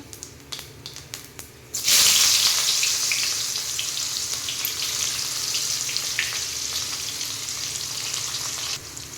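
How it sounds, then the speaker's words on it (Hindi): Cumin and chopped onion dropped into hot oil burst into a loud sizzle after a few quiet taps, then settle into a steady, close frying hiss that continues almost to the end. "आउ किछि जीरा आउ किछि कटा पियाज"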